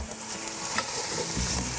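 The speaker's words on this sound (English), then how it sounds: "So now my chicken is actually being cooked" Chicken cooking in a pan for an Eid dish, giving a steady, close sizzle and fry with faint stirring scrapes throughout, no voices.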